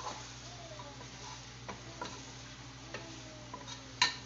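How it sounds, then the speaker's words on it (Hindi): Chicken fries gently in masala over low heat, a soft continuous sizzle with sparse light taps and clicks of a stirring spoon, ending in a sharper metallic clink, quiet and with no talking. "चिकन को ऐड कर दिया है, अब चिकन को हम इस मसाले के अंदर अच्छी तरीके से भून लेंगे।"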